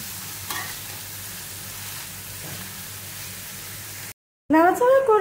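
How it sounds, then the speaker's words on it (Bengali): Chopped bottle gourd and onions fry in a pan with a steady, close sizzling hiss for several seconds. The sound cuts out abruptly, and then a voice starts talking. "এবারে একটু নাড়াচাড়া করব।"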